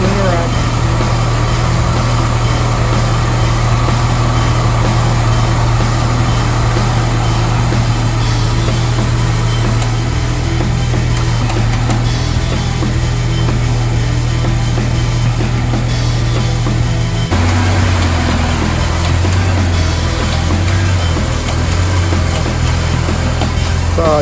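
A Smittybilt Gen2 X2O winch mounted on a Jeep Cherokee reels in cable. It gives a loud, steady motorized whine and drone that shifts pitch partway through, with a voice talking over the continuous mechanical hum.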